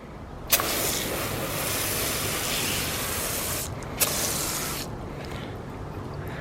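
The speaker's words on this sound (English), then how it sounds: "This little foam sprayer does a great job." A foam sprayer hisses steadily as it coats a car engine compartment in Adam's All Purpose Cleaner. The close spray runs as a continuous rush, broken by two short clicks and a brief pause near the end.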